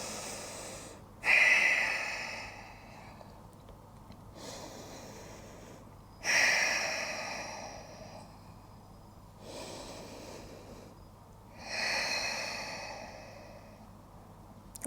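During a yoga stretch, slow deep breaths come and go in a steady cycle: three long, audible exhales, close and soft, with quiet pauses between.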